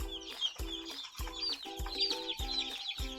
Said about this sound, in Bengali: আজকে জিরো বাচ্চা এনেছি, ব্রয়লার মুরগির বাচ্চা।